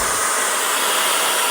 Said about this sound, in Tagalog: So, perfect na perfect tong Derma vacuum cleaner sa mga pangbahay na panlinis